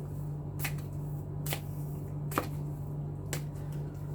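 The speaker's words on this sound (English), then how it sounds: "And I keep shuffling these cards." Oracle cards being shuffled by hand, four short crisp riffles spaced about a second apart over a low steady hum, quiet and close with no talking.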